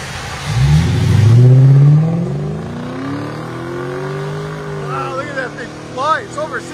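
A Lexus RC F with a 5.0 V8 and a muffler-delete exhaust revs and accelerates in deep sweeping pulls, loud and close at first, then easing into a steadier drone. A few bright chirps come near the end, and a voice is heard over it.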